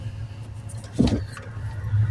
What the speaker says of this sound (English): I want to move my truck out of the